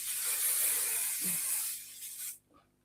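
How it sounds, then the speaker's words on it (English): Hairspray misted onto curly hair in a long, steady aerosol hiss that lasts about two seconds, then cuts off abruptly, leaving near silence. "I can put a little bit of this hairspray."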